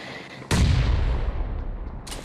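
Gunfire in PUBG Mobile, a sudden loud shot burst that rings out and decays over the next second and a half, then another sharp shot at the close, with no talking.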